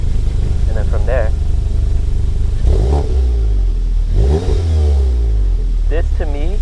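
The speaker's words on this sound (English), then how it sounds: "Once you put it into drive, you hear a lot more of a deeper burble or rumble." A Volkswagen Golf R MK7 engine burbles and revs in drive with a deep, steady low rumble that swells into a couple of throttle blips, close and loud under continuous talking.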